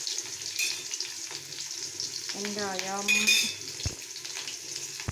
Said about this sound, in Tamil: எண்ணெய் நல்லா காஞ்சிருச்சு. கடுகு போட்டுக்கலாம்.